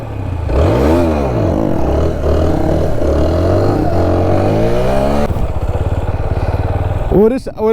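A motorcycle engine revs hard and roars continuously up close as the rider works the throttle for a wheelie, pitch rising and falling in repeated swells before a final sharp rev.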